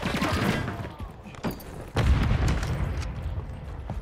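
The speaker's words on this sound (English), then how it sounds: "Grenade out." A grenade explodes in Call of Duty Warzone Resurgence with a heavy, booming blast, set among other rumbling impacts and gunfire-like bursts in dense, loud game noise.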